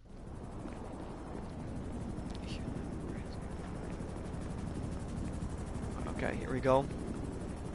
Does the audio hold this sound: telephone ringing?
no